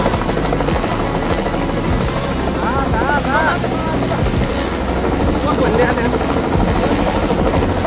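A helicopter flies over the flooded Bhotekoshi river, its loud, steady rotor roar filling the air throughout.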